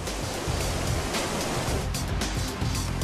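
A loud, broad roar of rushing, churning water from a tidal bore wave fills the whole clip, steady and close, like surf breaking.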